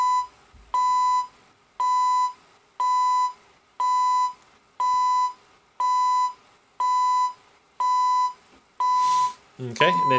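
Loud, regular beep bursts from an alarm clock radio repeat roughly once per second for about ten seconds, with no other sound until a short burst of other noise cuts in at the very end.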